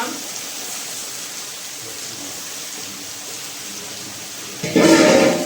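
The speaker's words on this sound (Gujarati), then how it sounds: "આ વટાણા છે એને આપણે ધોઈને નાખી દઈશું" Green peas are rinsed under running tap water, a strong rushing splash starting near the end after a quieter stretch of room noise.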